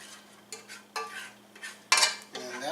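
A pear and honey spread is stirred in a pan as it caramelizes, giving a few soft scraping and clinking utensil strokes against the pan under a quiet background hum, with no talk.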